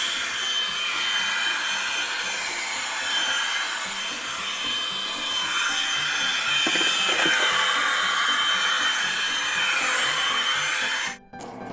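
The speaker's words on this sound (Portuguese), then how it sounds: "Então bora lá secar o cabelo." Hair dryer blowing on hair, a loud, steady airy whoosh that runs unbroken for about eleven seconds before it suddenly cuts off, with no talking over it.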